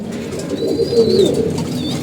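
Pigeons coo softly at close range, one low rolling coo in the middle against a quiet background, with a thin high whistle above it and no talk.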